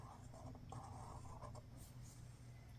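A pencil scratches across paper while drawing a capital and a small letter G, with soft, quick strokes and short scraping bursts separated by tiny pauses.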